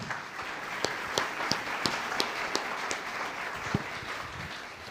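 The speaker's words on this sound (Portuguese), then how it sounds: "E palmas ao Rei dos Reis." A church congregation applauds during a worship service, a soft, even patter of clapping with several sharper individual claps standing out at irregular intervals, moderately distant.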